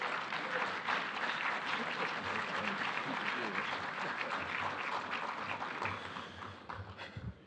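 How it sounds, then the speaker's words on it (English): Audience applause at a leadership conference, a steady dense roar of many hands clapping that tapers off toward the end. "Let's give him a nice round of applause"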